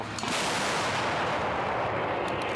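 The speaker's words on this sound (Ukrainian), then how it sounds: "Постріл!" A single heavy blast from a Bohdana self-propelled howitzer goes off close by, a broad roaring boom that sustains and rumbles for a couple of seconds, with no voices.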